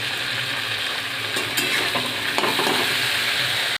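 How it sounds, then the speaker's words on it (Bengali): Cubed potato, eggplant and flat beans fry with salt and turmeric in a pan, giving a steady close sizzle broken by a few scraping stirs. "এখন পরিমাণ মতো নুন হলুদ দিয়ে ভেজে নেব"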